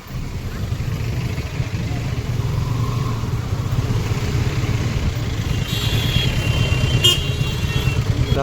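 Vehicles stuck in a heavy traffic jam behind a green bus: a steady rumble of car and motorcycle engines with a sharp horn toot near the end.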